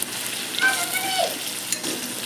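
Crushed ginger, garlic and green chilli being stirred in a hot pan, with a short burst of sizzling and spatula scraping close by, some brief sharp squeaks, and no talking.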